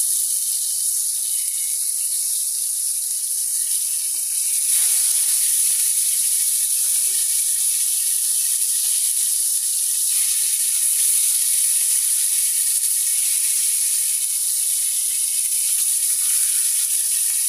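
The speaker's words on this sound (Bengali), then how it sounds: "একটা সাইড ভাজা হয়ে গেলে পরে উল্টায় দিতে হয়।" Rohu fish sizzling in hot oil in a pan, a steady close hiss and crackle that brightens after a few seconds and then runs on evenly with no talking.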